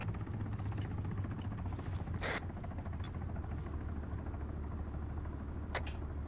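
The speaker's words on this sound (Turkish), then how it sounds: "Helikopter sesi var." Helicopter in the Arma 3 military game, a faint, steady rotor whir and hum that runs throughout, with a couple of short sharp clicks or shots on top.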